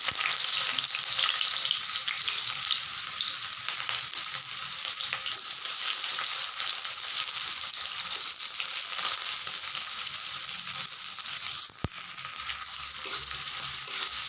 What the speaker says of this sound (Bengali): প্রথমে আমি পেঁয়াজ কুচিগুলোকে দিয়ে দিচ্ছি।